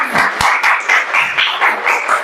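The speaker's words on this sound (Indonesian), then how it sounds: "tepuk tangan dulu untuk kawan kita" Classroom applause as a group of schoolchildren claps for a classmate, a steady patter of many hands with rhythmic pulses, fairly loud and close, with no talking.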